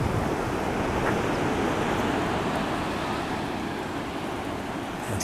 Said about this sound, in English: This is a beach.